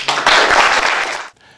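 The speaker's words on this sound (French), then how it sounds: "J'aimerais leur donner une main d'applaudissement." Brief burst of audience applause at a French-language community event, loud dense clapping for just over a second before it drops away to a faint tail.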